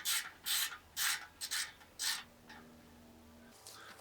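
A ratchet tightens a bolt on a bike in a series of short rasping clicking strokes, about five quick bursts close by, then a softer final turn.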